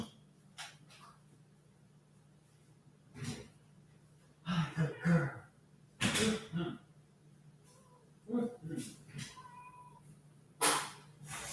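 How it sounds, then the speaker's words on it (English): A house cat meows to be let in, giving several short, scattered meows at a moderate distance in a quiet indoor room, with no talking. "My cat is meowing to be let in"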